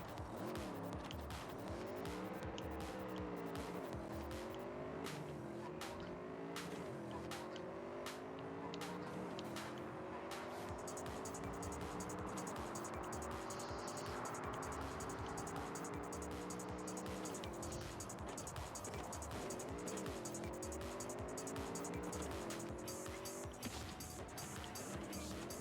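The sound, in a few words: car traffic in video game Cyberpunk 2077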